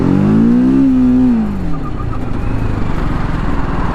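A TVS Apache RTR 310 motorcycle braking hard with ABS, its loud engine note sliding downward as it slows, then giving way to steady rumbling road and tyre noise, with no voices.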